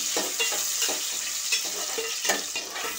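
Onion, garlic and green chilli sautéing in a pan for an egg curry, with a steady close sizzle broken by repeated scraping stirs of a spoon against the pan.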